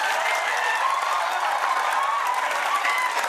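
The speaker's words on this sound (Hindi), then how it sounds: "पुरुषोत्तम जी के लिए एक बार जोरदार ताली बजाओ।" A live audience breaks into loud, steady applause at a stage event honouring a guest, the dense clapping filling the whole stretch with a few cheers mixed in.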